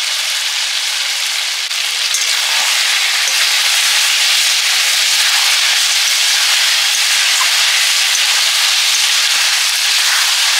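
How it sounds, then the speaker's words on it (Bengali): Steady broadband sizzle and steam hiss from a pan of braised meat in a home kitchen as water hits the hot pan, continuous and loud throughout with no talking. "মাংসটা কষা হয়ে গেছে, এবার জল দিয়ে দেবো।"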